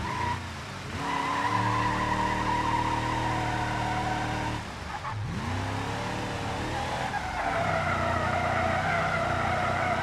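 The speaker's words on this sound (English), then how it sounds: "this truck's not doing too bad for drifting" A truck drifts in the BeamNG driving game, engine droning steadily with strained tire squeal and skidding that dip briefly then return, loud and continuous with no talk.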